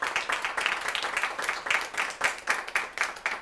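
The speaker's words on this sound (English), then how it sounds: "Let's give Mama Travis and Travis a round of applause" A crowd claps steadily for a few seconds, moderately loud applause with no voices over it.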